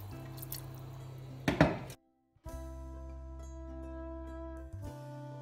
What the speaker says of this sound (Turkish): Üzerine geçecek kadar ılık su koyuyorum.